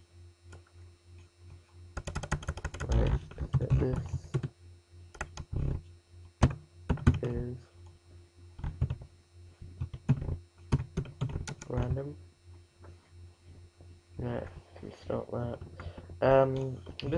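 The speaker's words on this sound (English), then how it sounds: "just type in non-member portal shop" Clicking keystrokes on a computer keyboard come in quick bursts and short runs with pauses between, close and crisp, while a person talks over the typing and a low hum sits underneath.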